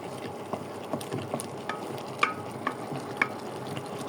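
Taro stolons (loti) stir-fried in a pan, a continuous low sizzle with scattered light taps and scrapes of a spatula at a steady, unhurried pace.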